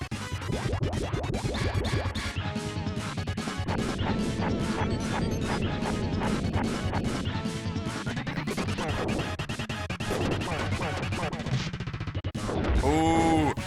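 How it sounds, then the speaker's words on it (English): Bombs exploding in the Super Nintendo game Turtles In Time: loud, dense crashes and rapid gunfire-like blasts over continuous game music, ending in a swirling sweep. "And here come the bombs."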